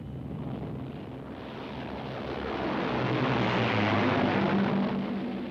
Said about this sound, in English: a flight of planes was just taking off here